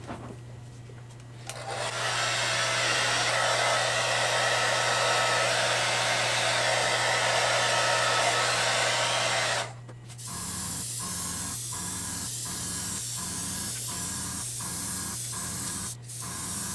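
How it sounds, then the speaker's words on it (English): Hair dryer blowing in a loud, steady whoosh for several seconds over clear-coated paint on a 3D-printed figure, then cutting off, followed by a lower hum broken by a rapid series of short clicks. "Going to hit it with the dryer."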